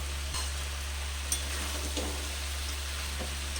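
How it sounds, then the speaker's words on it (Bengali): Vegetable chhakka sautés in a pan after a splash of water and fried peanuts are added, with a steady low sizzle over a constant electrical hum and a few faint knocks of a spoon. No one speaks. "একটু জল দিচ্ছি ভালো করে একটু এখন কষে নেব"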